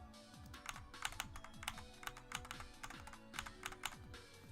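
Fast, forceful typing on a computer keyboard, a rapid irregular clatter of sharp key strikes close to the microphone, with no voices.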